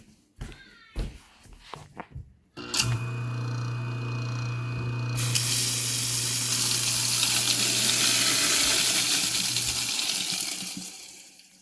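Newly installed garbage disposal switched on after a few clicks and knocks, then a loud steady grinding motor whir with rushing noise for about eight seconds before winding down.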